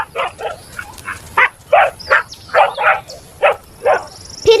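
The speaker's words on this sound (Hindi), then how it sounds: "तभी भेड़िया उसे देखकर गुर्राने लगता है।" A wolf snarls and growls in a horror story scene, a series of rough, rhythmic vocal bursts close up and loud, sounding much like a barking dog, with no talk over it.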